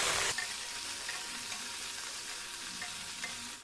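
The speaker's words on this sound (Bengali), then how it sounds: "এরপর আমি ঢেঁড়সটা দিয়ে দেব, আলুটাও দিয়ে দেব। এবার খুব ভালো করে এটা আমি নাড়াচাড়া করব।" Okra and potatoes stirred in a pan of hot oil after a chilli tempering, with a steady broadband sizzle and light scraping stir strokes throughout, preceded by a brief louder burst at the start.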